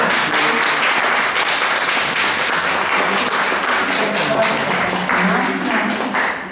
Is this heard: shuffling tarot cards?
no